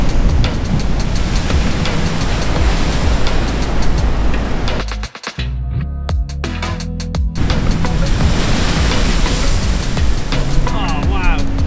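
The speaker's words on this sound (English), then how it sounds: "the waves are just absolutely like massive, crashing on the rocks" Huge Atlantic waves crash and roar against rocks on Portugal's coast, a loud continuous surf wash with a brief lull midway before the pounding resumes.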